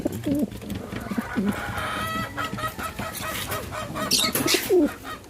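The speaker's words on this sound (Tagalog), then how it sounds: "Kain na din sila dyan mga kalapatid." Pigeons coo repeatedly at close range while they feed, their soft throaty calls rising and falling in a steady flock chatter with clucking fowl-like notes mixed in.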